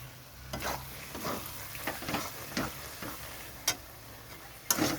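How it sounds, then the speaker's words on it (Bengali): Chicken is stir-fried in oil in a pan, a soft continuous sizzle broken by rhythmic spatula strokes and occasional sharp taps against the pan, fairly quiet and close. "তো আমি এখন কষিয়ে নিচ্ছি।"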